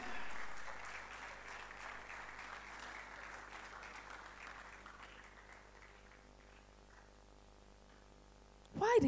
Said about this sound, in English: Why did you stop clapping?